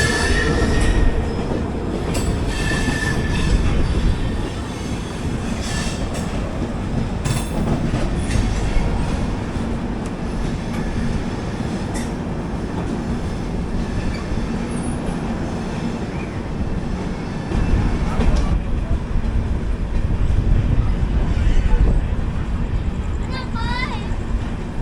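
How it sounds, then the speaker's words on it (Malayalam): The Vasco–Yesvantpur Express, train 4049, rolls past with loud wheel clatter and metallic squeals over a continuous rumble. Some voices can be heard alongside the passing carriages. "4049 വാസ്കോ യശ്വന്ത്പൂർ എക്സ്പ്രസ്."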